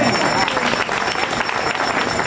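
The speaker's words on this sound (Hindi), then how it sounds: "तालियां कमजोर है आपका" Audience clapping at an all-India Hindi poetry gathering at a fair, a close, dense, continuous patter of hands with crowd murmur mixed in.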